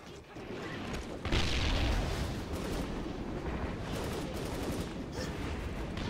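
Booming grenade blast in the video game Hazard Ops, a loud dense roar that swells after a second and rumbles on steadily for several seconds, with a voice briefly speaking over it.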